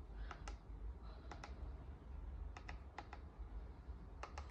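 Fingers tapping the small keys of a Brother PT-H200 label maker: a handful of light plastic clicks in short irregular bursts, close and faint over low room rumble, with no voices.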